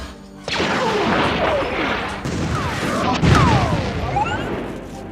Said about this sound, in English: You'll hear spaceships, explosions, and stuff, shots like that.